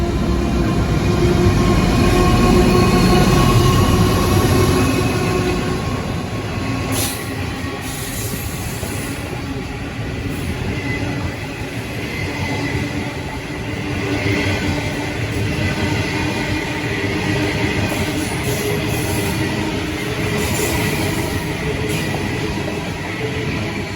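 Indian Pacific passenger train rolling through Strathfield station, a loud sustained rumble of wheels on rails with rhythmic clacking and faint squeals as carriages pass close by.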